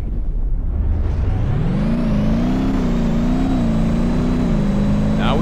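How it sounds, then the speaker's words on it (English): A cement mixer truck engine in BeamNG starts with a rough low rumble, then revs upward into a loud, steady droning whine with wavering pitch, sustained and close throughout. "Start the engine and go for a ride."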